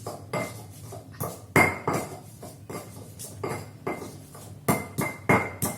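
Garlic cloves pounded fine in a mortar with a pestle, a run of sharp, close knocks in uneven rhythm with clinks of the tool against the bowl, heavier strikes bunching near the end.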